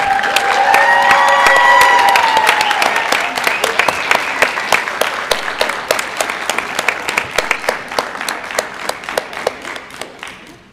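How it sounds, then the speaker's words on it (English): Audience at a dog show awards event applauding the top ten dogs: loud, dense clapping with some cheering at the start, then gradually thinning and fading toward the end. "Let's have a round of applause for these"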